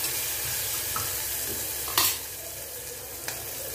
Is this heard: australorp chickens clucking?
no